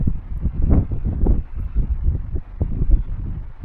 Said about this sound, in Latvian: Nu, vējš pamatīgs un drīz lietus sāksies.